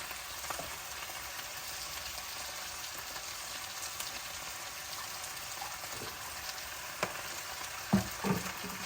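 Salmon stir-frying in a pan with soy sauce and vinegar, a steady broadband sizzle running throughout with a few sharper clinks and bursts near the end.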